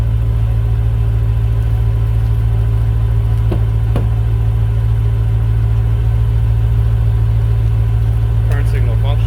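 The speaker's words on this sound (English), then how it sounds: "Start up with the car." BMW M3 E90 engine idles in a steady, loud, low rumble with an even, continuous drone, with faint clicks and a brief chirp near the end.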